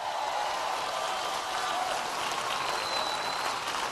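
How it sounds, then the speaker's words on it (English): Steady crowd applause at an outdoor political rally in Eden Park, a dense, even wash of many hands clapping that holds constant throughout with no speech over it. "Can everybody please give Andrew a great round of applause for that wonderful introduction?"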